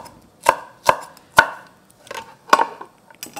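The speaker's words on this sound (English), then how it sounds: "Okay, I'll just slice this. This green chili pepper is a serrano pepper." Knife slicing a green serrano chili pepper on a cutting board, giving five crisp, evenly spaced chops, close and clear with quiet gaps between.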